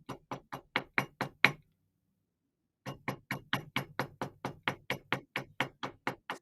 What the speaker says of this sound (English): This is my favorite nylon hammer